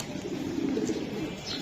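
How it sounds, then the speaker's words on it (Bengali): Racing pigeons coo softly in a short low burst, close by and fairly quiet, with a faint chirp near the end and no talking. "দুটোটা কবুতরে ভাই"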